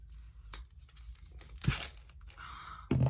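The packaging of an eye brush set is torn open in a few short, sharp ripping and crinkling bursts, fairly quiet and close, with no one speaking.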